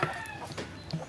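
A young rooster, about five months old, clucks in a few short, close calls with a brief pause between them, alone with no talking.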